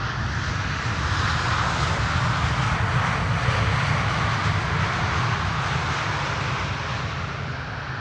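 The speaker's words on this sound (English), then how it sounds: "Is there an A400 in the vicinity passing overhead?" A military Airbus A400 transport aircraft passes overhead near Amsterdam Schiphol Airport, a steady, loud, broad engine roar with a low throbbing rumble that holds for the whole stretch without voices.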